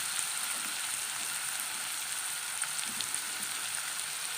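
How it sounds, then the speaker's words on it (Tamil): Garlic and onions sautéing in a pan for Chennai fish curry give off a steady, close hiss of frying with soft crackles throughout and no talking. "பூண்டையும் சேர்த்து நம்ம நல்லா வதக்கி விட்டுருவோம்"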